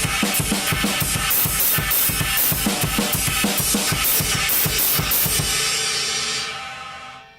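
Drum kit groove with the right hand alternating between a cymbal and a China cymbal over kick and snare, dense and loud with bright trashy crashes, ending in a ringing cymbal decay.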